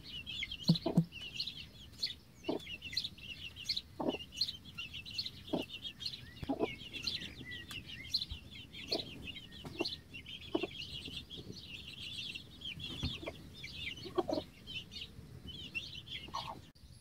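Broody hens with chicks cluck softly in a coop at night, steady high cheeping from the chicks running throughout with scattered low clucks and small rustles, fairly faint and close.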